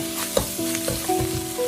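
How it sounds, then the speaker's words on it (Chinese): Luffa, eggs and wood ear mushroom stir-fried fast over high heat in a wok, a loud short burst of sizzling with scraping spatula strokes and no voices. "这里我们需要开大火快速的翻炒，把所有的丝瓜和鸡蛋和木耳融合在一起。"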